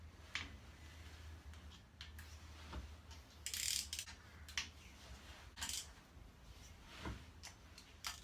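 A wrench backs off Subaru engine cylinder head bolts by a half turn, giving faint, scattered ratcheting clicks and metallic ticks against a low steady hum.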